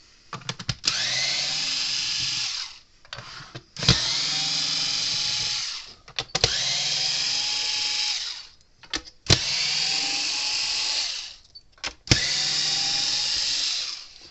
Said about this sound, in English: But let's pull the screws out of this thing.